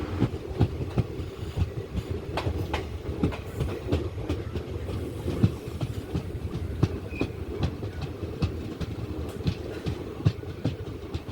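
The Amritha Express rolls into Oddanchatram railway station with a steady clickety-clack of wheels over rail joints, a continuous rumbling rhythm heard from on board, with no voices.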